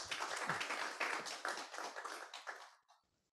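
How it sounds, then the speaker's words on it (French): Audience applause at a pitch event for digital therapy startups, a short burst of clapping that fades out and stops abruptly near the end. "On commence par l'applaudir"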